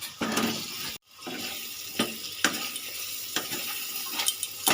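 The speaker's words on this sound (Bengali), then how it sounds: "এবার দিয়ে দেবো ভেজে রাখা আলু" Fried potatoes are stirred into a sizzling spice masala in oil, a close hiss with repeated scraping spatula strokes roughly every second and a brief gap near the start.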